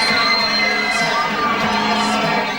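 A huge crowd of about 12,000 screaming fans waits for a pop group at an in-store performance, a dense, continuous roar of high-pitched shrieks and cheering that stays loud throughout.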